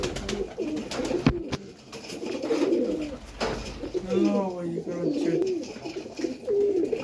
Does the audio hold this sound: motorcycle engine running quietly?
no